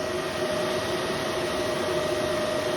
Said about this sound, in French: Donc les ventilos se mettent en route.